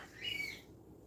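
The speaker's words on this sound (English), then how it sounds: "My bird is like flipping out right now." A pet bird gives a single brief, faint squawking chirp indoors, quiet and alone.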